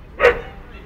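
A dog near a railway level crossing in Lincoln lets out a single sharp, close bark.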